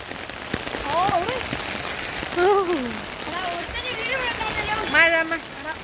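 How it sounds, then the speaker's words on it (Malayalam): Heavy rain pours steadily on surfaces outdoors, a broad constant patter with drips, while several voices talk and exclaim over it. "ഇവിടെ ഭയങ്കര മഴയാണ്."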